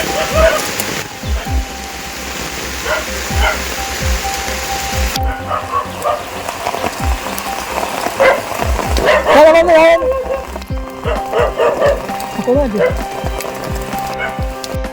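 A dog barks in a rainy forest setting near a house in the hills, several short barks scattered over steady rain, with people talking throughout.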